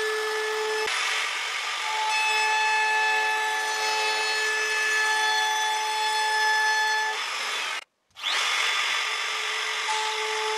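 A power router fitted with a bearing-guided copy bit whines steadily while cutting wood, a loud sustained high-pitched drone that cuts out briefly near the end, then resumes.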